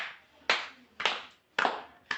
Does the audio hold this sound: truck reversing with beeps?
no